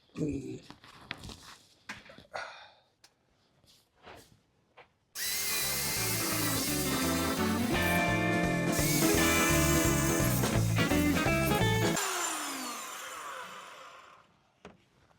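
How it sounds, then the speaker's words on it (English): Power file grinding a Ford Zephyr Mk3 exhaust clean before welding, a loud, close, continuous whining abrasion lasting several seconds and then spinning down, preceded by scattered knocks and handling noises. "I'm just going to clean off around the area with the power file"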